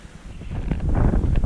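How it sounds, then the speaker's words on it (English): Wind blows outdoors in snow, a broad rushing gust that swells and grows louder over a second and a half, buffeting the microphone. No one speaks. "A little bit windy, but not too bad."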